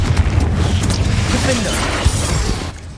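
Bombarda and Confringo spell blasts in Hogwarts Legacy land as loud, dense booming crashes with repeated sharp impacts over a thick rumbling low end, fading out at the finish.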